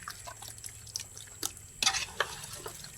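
Fish pieces for frying are mixed by hand with colour masala, giving faint, wet squelching clicks and pats at an uneven pace in a quiet room.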